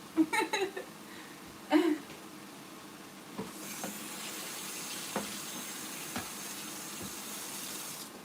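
Cold tap water runs steadily into a sink in a home kitchen during cooking, a continuous hiss and splash lasting several seconds after a few brief clatters at the start.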